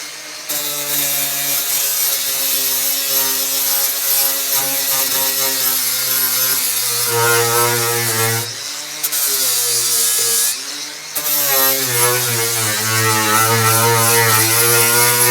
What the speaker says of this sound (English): Gonna use a grinder to see if it's a primer and filler kind of job or a welding kind of job.